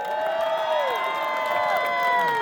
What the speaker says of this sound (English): let's give these guys a big round of applause one more time.